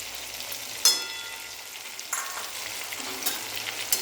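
Ginger paste and spices frying over a raised gas flame, a soft continuous sizzle broken by a few sharp clinks and scrapes of stirring in the pan, close and fairly quiet.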